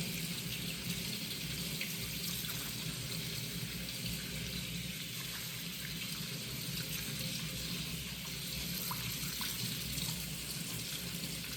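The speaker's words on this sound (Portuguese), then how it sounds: "Lavo imediatamente com água corrente para interromper o cozimento." Cooked apples rinsed in a colander under a running kitchen tap, a continuous close hiss of flowing water splashing steadily throughout without speech.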